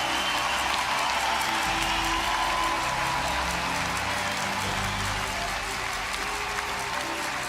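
Arena crowd at the Women's Handball World Championship final applauds the German team with sustained, dense clapping and a broad roar of voices, heard from a distance.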